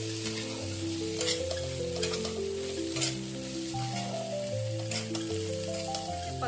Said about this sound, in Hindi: अब हम इसमें फ्राई किया हुआ कॉर्न ऐड कर देंगे।